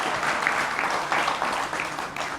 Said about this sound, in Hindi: तो निरहुआ जी का स्वागत है, एक बार फिर जोरदार तालियों के साथ अभिनंदन है।